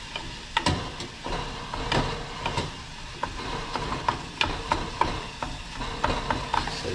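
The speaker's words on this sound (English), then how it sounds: "So I'm going to get the spoon and just mash the tomatoes down." A spoon scrapes and taps rhythmically against a pan, mashing tomatoes with garlic into a paste over a soft sizzle, with steady close clicks and scrapes and no talk.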